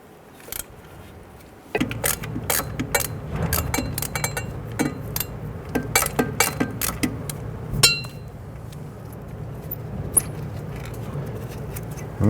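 A 10mm securing bolt on the brake line clamp of a 1999-2004 Jeep Grand Cherokee is worked loose, giving sharp metallic clinks and ratchety taps in irregular bursts, close up, with no talking.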